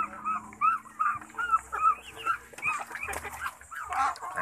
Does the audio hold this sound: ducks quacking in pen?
yes